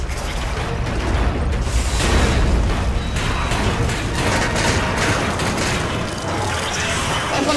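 Dense bursts of rapid gunfire and booming blasts in the video game Resident Evil 5 pile up continuously, loud and close, with no clear gaps.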